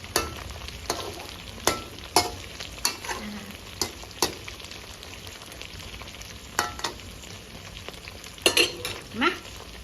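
Batter-coated shrimp heads deep-frying until crispy over low heat, a constant bubbling sizzle punctuated by sharp, irregular clicks and scrapes of a utensil against the pan.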